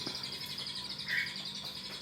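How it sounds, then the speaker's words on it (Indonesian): A sooty-headed bulbul gives a single short, clear chirp partway through, faint and fairly distant, over a steady high-pitched background hiss. "diisi dengan suara kutilang satu lagu"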